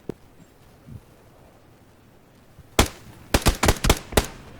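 Gunshots in PlayerUnknown's Battlegrounds: a few faint pops early, then a loud sharp shot followed by a rapid burst of four or five cracks, with no talk over them.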